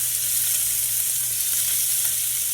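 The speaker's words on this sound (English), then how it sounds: "And we're just going to saute this, okay?" Salmon pieces sautéing in olive oil in a pan make a continuous, even sizzle close up, with a faint low hum beneath.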